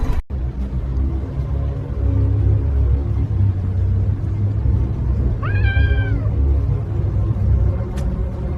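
A cat lets out a single drawn-out meow near a school bus, heard over a continuous low rumbling engine drone.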